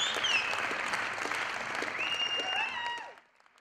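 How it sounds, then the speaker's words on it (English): An audience at a corporate awards special applauds the panelists, sustained clapping under bright tonal music that fades out at the end. "A warm round of applause."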